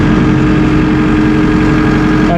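A Massey Ferguson 2850E compact utility tractor with a synchro shuttle transmission and 48.8 hp engine, shuttling in fourth gear, gives a loud, close, steady diesel drone with a deep rumbling pulse.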